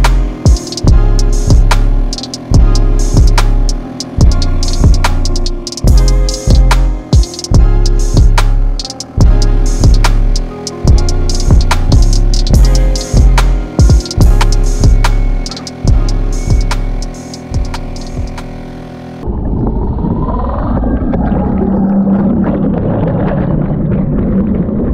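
A small Suzuki 2.5 HP outboard motor drives a Pelican Bass Raider boat, running loud and close with a steady, rhythmic thrum. Near the end it gives way to rushing wind and water.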